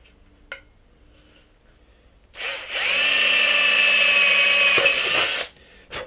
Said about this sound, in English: put my drill where I want it